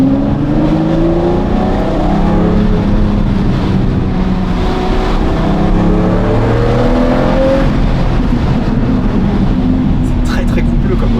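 A Lamborghini Murciélago LP-580 V12 with a manual gearbox revs high, its engine note rising and falling in long sweeps through the gears, loud and close, with people talking over it.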